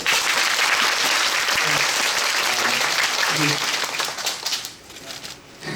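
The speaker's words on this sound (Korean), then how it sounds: "박수 부탁드릴게요" A theater audience gives sustained, full applause at the curtain call of the final performance of the musical Mia Familia, with a voice faintly heard before the clapping fades out near the end.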